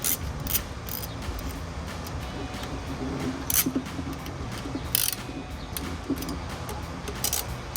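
Socket ratchet working on a K&N Series 63 AirCharger cold air intake on a 2022-2024 Toyota Tundra, giving close, rapid clicking and scraping mechanical sounds with sharp metallic ticks scattered throughout, no talking.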